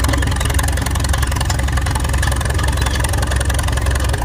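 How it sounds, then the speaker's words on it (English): Vintage tractors drive past at a steam and traction rally, giving a steady, loud, rumbling engine drone with a knocking low-end pulse that holds evenly for about four seconds, with no talking. "they're doing like the big tractor drive now. So we get to watch them all drive past."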